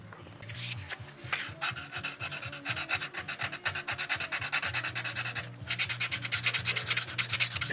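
Sandpaper rubs back and forth over the clear coat covering ink letters on a Windy U Master 900, giving rapid, even rasping strokes that repeat close up, with one brief pause midway.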